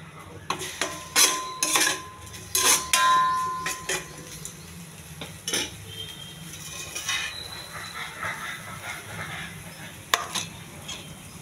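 Cumin and green chillies frying in a pan, with repeated sharp metallic scrapes and clinks of a spoon stirring against the pan over a soft, faint sizzle, close and irregular in rhythm.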